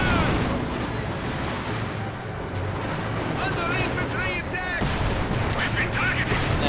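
Gunfire and explosions in the real-time strategy game Company of Heroes 2, a dense, continuous battle mix of rifle shots and heavy fire with occasional whistling shells, under a commentator's voice.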